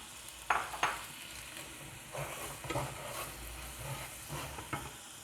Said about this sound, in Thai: เคี่ยวเคี่ยวน้ำตาลน้ำเปล่า